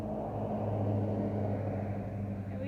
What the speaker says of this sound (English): We have all the traffic going by.